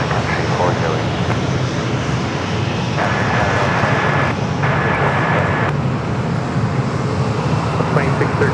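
An airliner takes off from runway 27 at San Diego airport, its jet engines giving a loud, steady roar throughout, with tower radio chatter heard over the engine noise.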